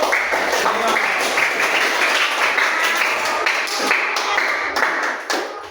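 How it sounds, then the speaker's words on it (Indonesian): A classroom of students clapping for a student group after their presentation, a steady mass of handclaps that thins out near the end. "Tepuk tangan dulu untuk"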